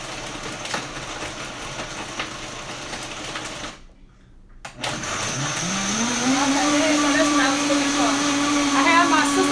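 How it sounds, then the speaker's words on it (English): A blender whirs through a smoothie with a steady, loud motor drone that shifts in pitch and builds after a brief cut-out, running alone without speech. "I usually blend it for like about, I don't know, till it looks creamy to me."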